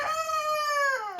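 A pretty hen lets out one drawn-out, strained call, steady and close, fading at the end.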